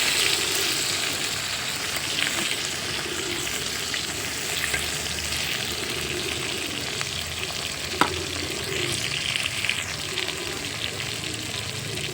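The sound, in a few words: tilapia fish frying in a pan on a wood stove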